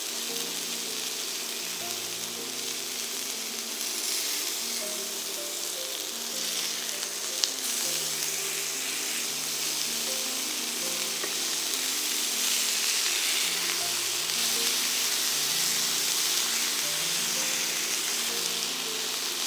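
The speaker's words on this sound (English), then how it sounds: "Then flip them over and fry the other side." Pork patties fry steadily in a pan, a dense continuous sizzle and hiss that runs unbroken and close, with no voices over it.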